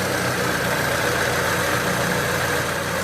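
Supercharged EF Honda Civic engine idling when warmed up, a steady, even rumble with a broad hiss on top, close and constant throughout with no voices.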